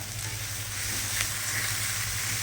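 Onions fry in a pan for misal pav, a steady close sizzle with a constant low hum beneath it and a brief crackle midway, with no talking.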